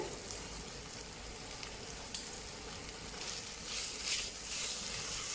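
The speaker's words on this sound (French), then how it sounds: "donc on fait bien revenir les oignons" Chopped onions with a pinch of salt frying in a pan as they soften, giving a steady, close sizzle with a soft hiss and occasional crackle that swells slightly toward the end, with no voices.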